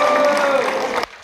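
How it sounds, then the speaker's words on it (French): Studio audience on a French television music show claps for a guest photographer, a brief full burst of applause that cuts off abruptly near the end. "il faut applaudir ça"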